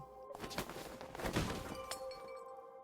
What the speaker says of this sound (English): Cutlery, chopsticks, a glass, everything clatters to the ground in a sound that threatens to blow out Rosa's eardrums.